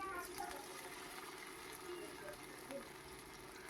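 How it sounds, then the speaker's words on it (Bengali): Potato peel pakoras sizzling in hot white oil, a steady broadband crackle of deep frying running evenly throughout with small bubbling pops, close and moderately loud. "এখানে আমি তেল গরম বসিয়েছি, সাদা তেল। পকোড়াগুলোকে একটি একটি করে ছেড়ে দিচ্ছি।"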